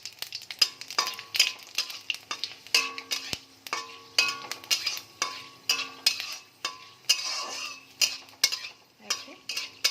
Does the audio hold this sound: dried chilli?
yes